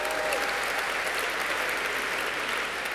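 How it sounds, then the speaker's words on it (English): A dinner audience at a charity gala applauds Anderson Cooper with sustained, even clapping from a large room, held at a moderate level throughout. "Let's give him a round of applause."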